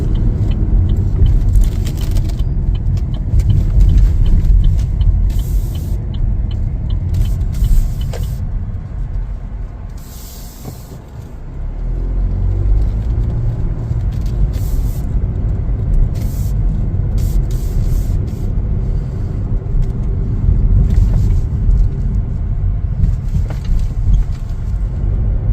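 2026 Chevrolet Trax 1RS driving and making a U-turn, a steady low road and engine rumble from inside the cabin with a brief dip as the car slows and turns, then resumes.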